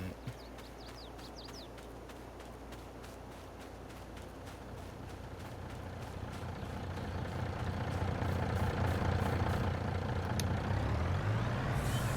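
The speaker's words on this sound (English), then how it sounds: "I don't know why it sounds like it's revving and it's just idle" A truck engine idles in Farming Simulator 22, a steady low rumble that builds louder over the final seconds, with faint rhythmic ticking and a hiss near the end, and no talking.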